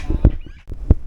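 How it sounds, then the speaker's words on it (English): Birds squawking near a cave in Guadalupe, Colombia, giving short harsh calls in quick bursts, fairly close and loud, with brief gaps between calls. "I'm sure you can hear the birds squawking in the background."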